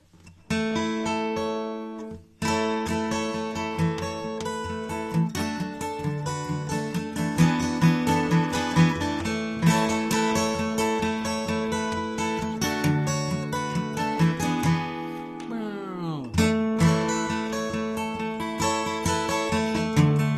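A 1990 Gibson J-200 acoustic guitar played with a capo, close and full, strummed chords and picked runs ringing continuously with a brief pause and a sliding bend near the end, no talk.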